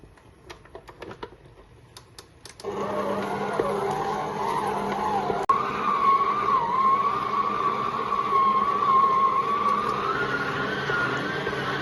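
A stand mixer kneads sweet bread dough for Long John pastries. After a few light clicks and taps, the motor starts, settling into a steady whine with a wavering pitch as it works the dough continuously.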